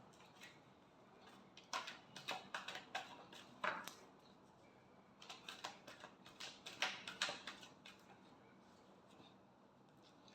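Tarot cards being shuffled, heard as quick, crisp papery riffles and taps in irregular bursts, close and fairly soft in a quiet room.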